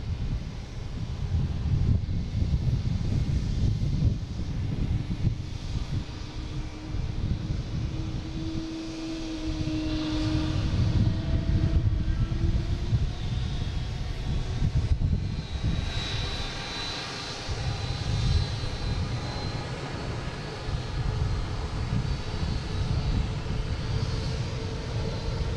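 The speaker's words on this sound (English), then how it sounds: "We got a Delta coming in, A330-300, flight 113 from Rome." Delta Airbus A330-300 widebody jet arriving at Boston Logan, a steady broad engine roar with faint whining tones, sustained and fairly loud throughout with wind buffeting the microphone.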